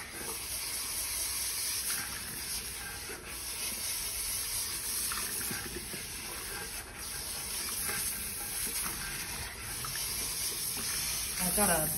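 Water streams steadily from a new filtered-water nozzle on a salon shampoo bowl, a continuous close hiss with faint splashing throughout.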